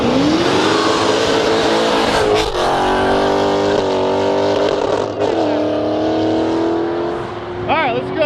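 A Dodge Challenger with a ProCharger supercharger revs nearby, loud and continuous, its engine note rising and holding with a supercharger whine. People talk faintly underneath.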